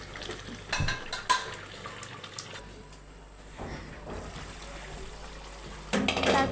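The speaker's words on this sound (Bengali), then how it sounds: "এখন হালকা একটু নেড়ে চেড়ে নিব, কষিয়ে নিব" Beef curry being stirred in a pot after the lid comes off, the utensil scraping and clinking against metal in a few scattered bursts over a low simmering background, with no talk.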